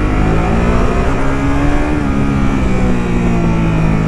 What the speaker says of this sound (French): Oh, puis elle pétarade, hein.